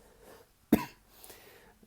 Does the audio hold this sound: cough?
yes